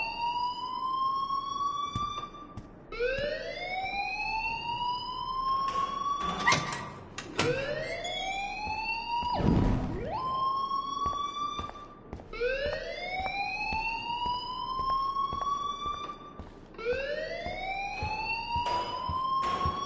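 A repeating rising electronic alarm wail sounds in the video game Life Is Strange, with several sweeping cycles over about twenty seconds, loud and continuous, interrupted by a few brief bangs.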